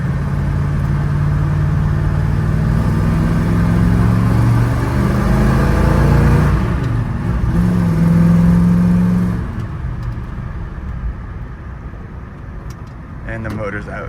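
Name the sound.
car engine revving during a short test drive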